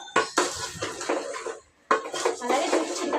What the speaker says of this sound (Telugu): ఇది కారం వేసేసి ఒకసారి కలిపేసి పప్పు కూడా కలిపేస్తా